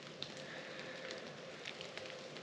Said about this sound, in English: Got a light drizzle rain right now.